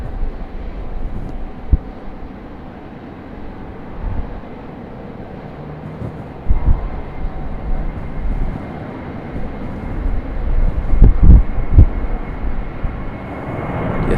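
A United Boeing 737-700 airliner takes off at Raleigh-Durham International Airport, a steady distant jet rumble that swells louder toward the end, with no talk over it.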